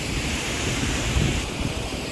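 A waterfall on a mountain trip pours in a dense, continuous rush of water, loud and close, with wind buffeting the microphone and no talking.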